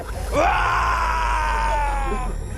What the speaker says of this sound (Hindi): वो चीख मेरे कानों के पर्दे को फाड़ रही थी